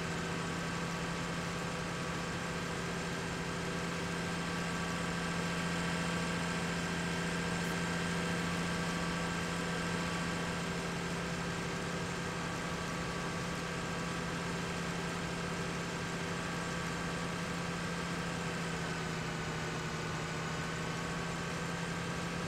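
Small farm tractor in a farming game, its engine droning steadily at idle with a low, even hum that holds unchanged for the whole stretch, no voices.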